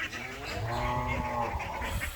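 Ducks aged 42 days on a small duck farm keep up a steady chorus of honking, quacking calls at moderate distance, with no voices.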